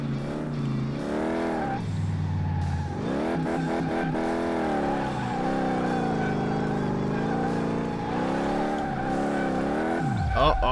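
A car drifts on a small drift track in Car Mechanic Simulator 2018, a 1964 Chevy Impala, its engine droning and revving in long rising and falling sweeps with steady tire noise, loud and continuous under a player's speech.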